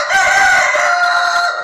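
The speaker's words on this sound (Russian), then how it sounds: "Одни из самых красивых петухов" A rooster with feathered legs crows loudly and close in a chicken coop in the evening, one sustained, wavering crow held through the whole moment with no talk over it.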